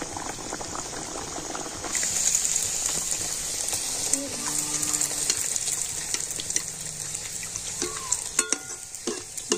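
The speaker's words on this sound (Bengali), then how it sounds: "আর এদিকে তেল গরম হয়ে গিয়েছে, আর এখন আমি লুচিগুলো ভেজে নেব।" Luchi, puffed Bengali flatbreads, deep-frying in hot oil, a steady loud bubbling sizzle running throughout with occasional utensil clinks and small pops.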